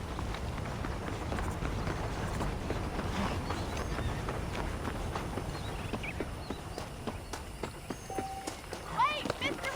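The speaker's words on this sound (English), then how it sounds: "The horses are saddled up over here." Horses trotting in the video game Red Dead Redemption, a steady stream of hoof clops under continuous game ambience, with a brief tonal chirp near the end.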